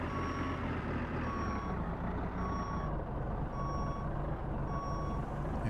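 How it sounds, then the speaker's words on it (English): Garbage truck in American Truck Simulator backing up, its reversing alarm giving a steady series of five evenly spaced beeps over a continuous low diesel engine rumble. "And let's back it up, make sure I'm not hitting anything."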